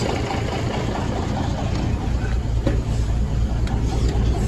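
A steady, low diesel engine idle from a 1981 Peterbilt 359 truck rumbles continuously at close range, with no voices.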